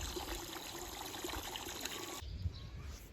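Steady trickling and splashing of water pouring into a container, continuous for a few seconds, then a sudden drop to a quieter, duller stream.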